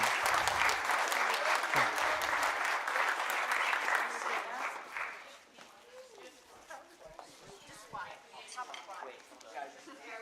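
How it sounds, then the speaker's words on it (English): Audience applause at a high school senior night talent band concert, loud sustained clapping that fades after about five seconds into scattered claps and crowd chatter. "So let's give them a round of applause."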